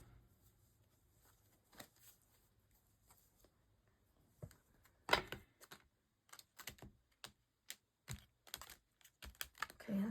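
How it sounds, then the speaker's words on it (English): Tarot cards are shuffled quietly by hand during a reading. Soft, irregular riffling and tapping bursts grow busier toward the end, set against near silence and close to the listener. "Okay, that shuffle wasn't too bad."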